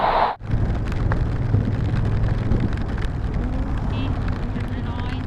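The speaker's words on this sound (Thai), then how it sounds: "แต่ตอนนี้ฝนมันตก แล้วฝนมันสาดครับ" Heavy, wind-blown rain pours steadily at Khao Kho, Thailand, in a dense, constant hiss and patter, with a brief thump at the start; voices are faintly present beneath.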